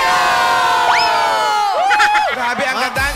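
A team on a Filipino TV game show cheers loudly, with several voices shouting and whooping together over steady studio crowd noise.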